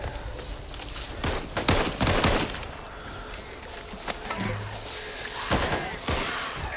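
Bursts of gunfire from the zombie shooter game Back 4 Blood, a string of loud cracks and rapid volleys over a busy background of in-game noise.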